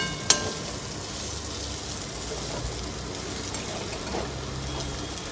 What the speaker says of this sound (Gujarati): ચમચા વડે ચલાવતું રહેવાનું છે.